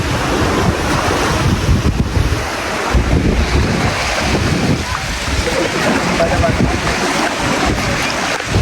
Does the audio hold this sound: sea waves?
yes